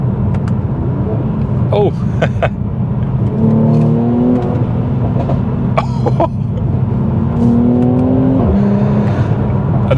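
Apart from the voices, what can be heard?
Mercedes C43 AMG 400hp engine revving, downshifting in manual mode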